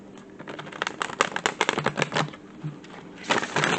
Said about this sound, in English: Let me get another shuffle here.